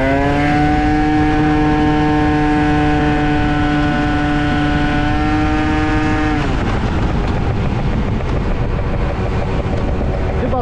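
A tuned Italjet Dragster 180 scooter engine holds a steady high whining rev, then drops sharply and turns to rougher, broadband roaring as it pulls away, loud and close throughout.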